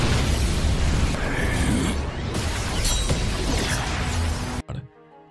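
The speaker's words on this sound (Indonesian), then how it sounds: "melancarkan serangan menggunakan biji buah, beradu kekuatan melawan Yaulau dan menciptakan ledakan luar biasa." Animated explosion from two clashing power attacks, one launched with fruit seeds, a dense, loud, sustained roaring blast that fills the clip and then cuts off abruptly near the end.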